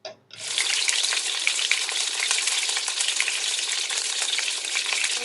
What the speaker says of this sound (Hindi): अब इसको थोड़ा सा फ्राई होने देंगे